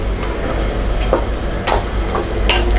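Onions with ginger garlic paste sautéing in a pan for chicken biryani, a continuous frying hiss with several sharp scraping stirs of a spatula at irregular intervals, close and fairly loud.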